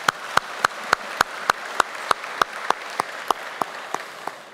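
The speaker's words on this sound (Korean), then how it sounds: "박수 한번 할까요?" About fifteen sharp claps in an even, brisk rhythm, roughly three per second, sound out together as a congregation applauds in unison. There is no talking over them.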